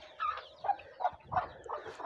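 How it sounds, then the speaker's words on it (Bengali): Poultry at a cattle and goat farm make a run of about six short, nasal calls in an even rhythm, close by and moderately loud, with no talk over them. "চীনা হাঁস দেখো চীনা হাঁস আসে না"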